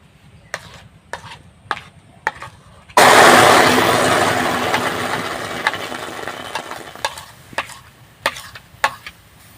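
Palm fruit pulp goes into a hot wok for an oil-free snack with a loud burst of sizzle that slowly fades, set between sharp, sparse taps and knocks of a utensil before and after.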